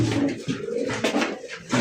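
Several pigeons coo in steady low throaty bursts close by, including a single male Madrasi Golla, with the calls overlapping in a continuous rolling murmur and no talk over them.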